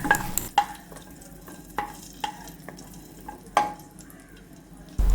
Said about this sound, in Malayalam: അതിലേക്ക് നമുക്ക് കുറച്ച് കിസ്മിസ് എടുത്ത് ഒന്ന് വറുത്തെടുക്കാം